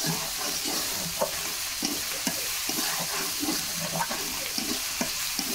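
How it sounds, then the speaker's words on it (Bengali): Ground spices for a chicken curry sizzle steadily in a hot pan while being stirred, with soft scraping strokes recurring under a constant loud frying hiss and no voices. "এখন আমি এগুলো কষিয়ে নেব ভালো করে।"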